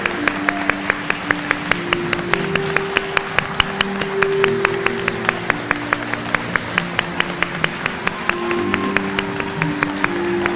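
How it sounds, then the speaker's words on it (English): An audience at a high school awards ceremony applauds steadily, with dense clapping running through the whole stretch and a few louder sharp claps standing out near the front. "Let's give one more round of applause for you guys"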